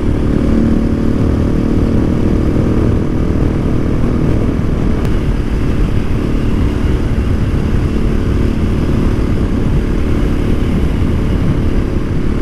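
Motorcycle fitted with a Wings aftermarket exhaust and Rade intake, riding at speed with a steady, loud engine drone and rushing wind throughout, no pauses or talk.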